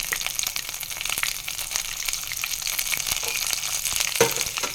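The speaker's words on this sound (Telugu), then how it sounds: "చూడండి, మిరపకాయలు ఎట్లా చిట్టమట్టలాడుతుంది." Chopped green chillies sizzle and crackle in hot oil in a pan while cooking an egg curry, a steady close hiss with scattered sharp pops and spatters throughout.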